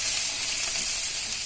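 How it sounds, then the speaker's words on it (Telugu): Ginger, garlic and onion pieces fry in four or five spoons of oil, a loud, even, close hiss of sizzling that holds steady without pause. "ఒక 4-5 స్పూన్ల ఆయిల్ వేసి అల్లం ముక్కలు, వెల్లుల్లి ముక్కలు వేసి వేయించుకోవాలి."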